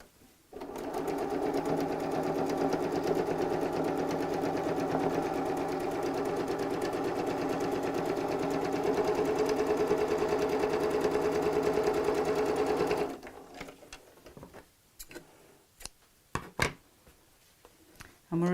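A sewing machine runs in one long, steady whir, stitching over the seams of a scrappy patchwork bag, then stops, leaving scattered small clicks and handling noises.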